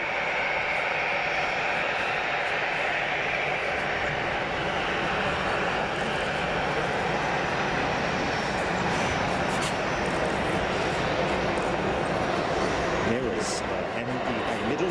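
A Middle East Airlines Airbus A321 at Frankfurt Airport produces a sustained, loud jet engine roar, broad and steady throughout, with a person's voice over it.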